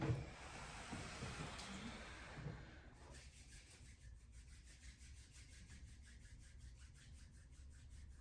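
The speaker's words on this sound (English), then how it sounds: "slowly beginning to rub the palms together. Create some heat, create some friction" Palms rubbed briskly together to build heat during a yoga session, a close, loud dry swishing friction for about three seconds, then fading to faint hiss.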